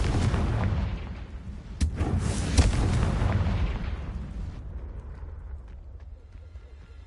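Booming blasts from the Confringo fire spell in the Hogwarts Legacy video game, with two sharp loud bursts over a dense rumbling battle bed that slowly fades toward quieter ambience.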